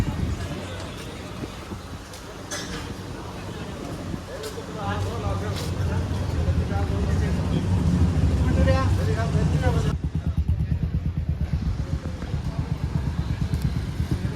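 Busy street traffic in Manali, with motorbikes and other vehicles rumbling and passing close by in a continuous loud wash, while people talk over it.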